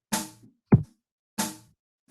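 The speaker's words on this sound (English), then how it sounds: "maybe I want to make this a bass drum." A bass drum from a Scratch music block lands as a single deep thump near the middle, between two brighter synthesized drum hits. The hits are short and evenly spaced, with no voices.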